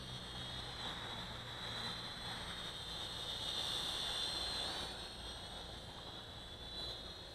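A Huajun HJ818 Pathfinder toy RC airplane flies at a distance, its small electric motor giving a faint, steady high whine that swells and fades slightly as it passes, with no talk.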